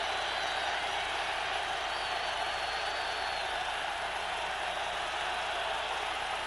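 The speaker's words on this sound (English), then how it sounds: "Can you believe this crowd?" Dense, steady roar of a packed football stadium crowd at the Los Angeles Coliseum during a Bengals–Raiders game, a continuous wash of distant cheering with no break.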